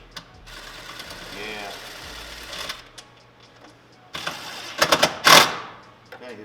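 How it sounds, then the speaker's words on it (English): Ratchet wrench tightening a bracket on a Ford Bronco during a performance upgrade, heard as short bursts of rapid clicking near the end, with quieter mechanical shuffling earlier. "We may be able to get this thing with the ratchet wrench."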